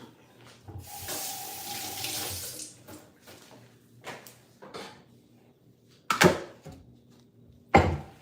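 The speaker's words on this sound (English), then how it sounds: "Let me wash my hands." Water runs from a tap as hands are washed under it, a soft splashing stream followed by a few sharp, brief clatters and splashes near the sink.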